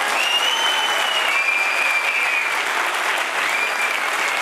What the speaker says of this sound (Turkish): Yani bu alkışı duyduktan sonra ben 3 ayda bir çıkar söylerim ya.